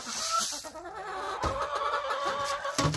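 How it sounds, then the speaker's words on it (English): Farm chickens on a winter storm day cluck and squawk close by as they wait eagerly for a treat of scratch grains, with busy overlapping calls and some wind and rustling behind them. "So just enjoy the chickens ready for their treat."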